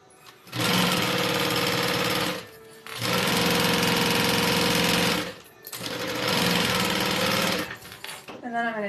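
A sewing machine runs straight seams joining bag panels, three sustained bursts of fast, even stitching separated by brief pauses, close and loud.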